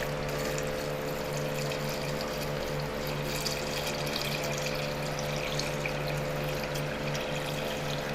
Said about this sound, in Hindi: दाल कद्दू के बराबर पानी डालेंगे।